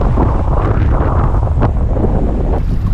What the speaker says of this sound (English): Got a 10 to 15 knot wind.